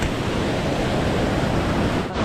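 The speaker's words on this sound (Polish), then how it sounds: "Rzeka jest bardzo rwąca." A fast, turbulent river rushes close by near a large waterfall, filling the air with a dense, unbroken roar and no voices.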